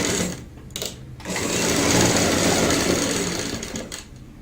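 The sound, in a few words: sewing machine stitching along fabric piping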